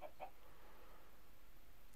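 Chicken in Minecraft giving two quick clucks at the very start, faint and slightly distant, followed by quiet background hiss.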